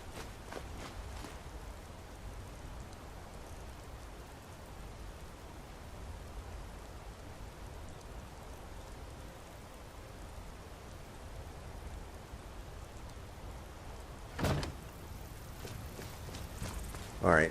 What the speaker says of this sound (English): And looks like it's raining again.